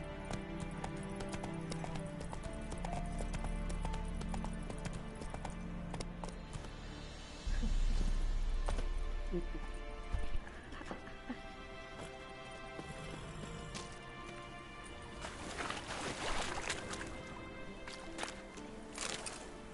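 Hoofbeats of a horse clip-clopping at speed in The Witcher 3 video game, a steady rhythmic drumming under game music, with a short whinny; someone speaks briefly.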